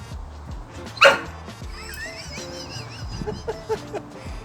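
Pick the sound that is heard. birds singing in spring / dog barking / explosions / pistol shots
dog barking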